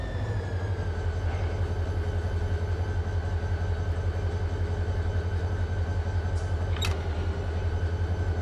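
Freight train in Run 8 Train Simulator starting to pull away on Cajon Pass, a steady low diesel engine rumble running loud and constant throughout, with a brief higher squeal or horn-like tone near the end.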